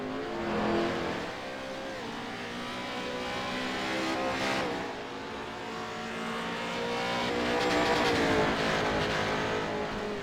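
Race cars lap a track in a racing league event, engines droning and revving as they sweep through corners, with pitch rising and falling over a steady loud roar and no voices.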